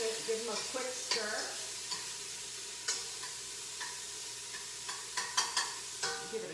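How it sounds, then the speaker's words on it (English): Onions cook in a pan for chili, a soft steady sizzle broken by repeated sharp scraping clicks of a utensil stirring them, close and fairly quiet, with no talking. "So we've got the onions cooking. We're going to wait until they get nice and translucent. Give them a quick stir."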